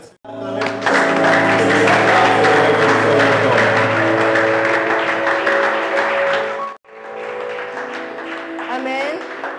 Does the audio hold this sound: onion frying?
no